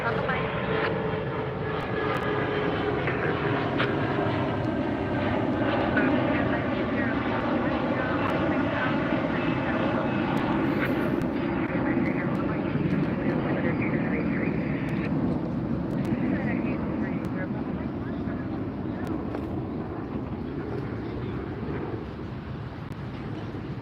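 A Delta jet passes over the beach at LAX at sunset with a continuous broad engine roar that fills the scene, while people talk over it.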